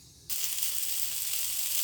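Eggplant (brinjal) slices frying in a pan: after a brief quiet moment a strong, even hiss of sizzling oil starts abruptly and holds steady, close and alone.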